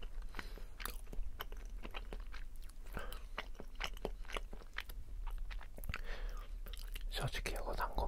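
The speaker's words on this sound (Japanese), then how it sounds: "咀嚼音ってゆっくり噛むとまた音が違うんですね。" Slow chewing of soft, sticky dango rice dumplings recorded up close, with irregular wet crunches, squishes and bites spread across the stretch over a quiet background, and whispering heard between the chews.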